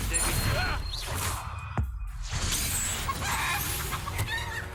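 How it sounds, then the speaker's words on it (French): Clucking chicken sounds from an enemy transformed into a chicken in the video game Hogwarts Legacy, mixed with combat effects, a sharp crash, and constant game background noise. "Je vais transformer en poule, c'est beau ça."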